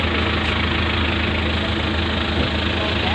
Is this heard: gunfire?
no